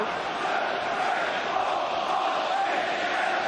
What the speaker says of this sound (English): The crowd counting out the paces to accompany Mark Halsey's theatrical march